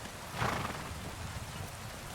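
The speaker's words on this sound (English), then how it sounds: "Where's my horse? Are you my horse?" A horse in the medieval video game Kingdom Come: Deliverance II gives a brief, faint neigh near the start, mostly buried under a steady wash of loud, heavy in-game rain.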